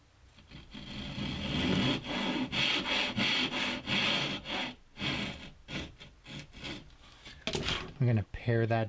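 A hand saw cutting off the shoulders of dovetails in a wooden stitching tray, a run of close rhythmic rasping strokes that come in pulses, ending in a few quick harder strokes, with no talking.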